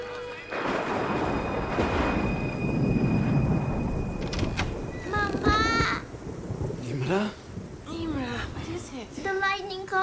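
A thunderstorm plays, with heavy rain and a long roll of thunder. Several voices speak and cry out over it, and a high tone hangs in the background.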